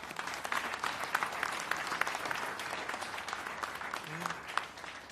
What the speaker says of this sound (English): A round of applause for Alex Rins,